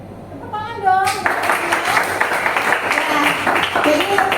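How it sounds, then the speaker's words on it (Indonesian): A classroom of children claps their hands together in a dense, sustained burst that starts after a brief spoken phrase and continues steadily at close range. "Tepuk tangan dong."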